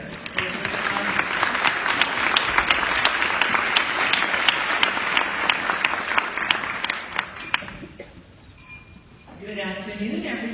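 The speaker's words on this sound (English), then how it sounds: "let's give her a warm hand of applause and thank her." An audience at a luncheon applauds warmly, with sustained, dense clapping for about eight seconds that then fades. A speaker begins talking as it dies away.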